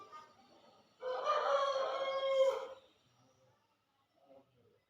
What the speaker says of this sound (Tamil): கோழிக்கு பூரா சவுண்டு கேட்குதா?